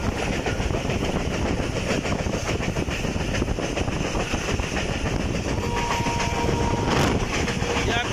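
Shah Latif Express (151 Up) running through Detha railway station after Hyderabad, a loud, steady roar of wheels and clattering carriages close by throughout, with a brief horn-like tone near the end.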